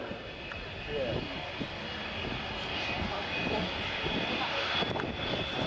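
A small propeller plane drones steadily at a distance, its engine hum continuous and even, with faint voices murmuring in the background.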